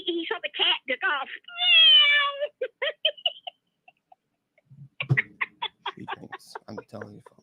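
A man on stage at an open mic night imitates a cat's meow with a drawn-out, wavering vocal whine, set between bursts of his ordinary speech.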